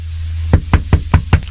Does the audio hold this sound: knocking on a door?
yes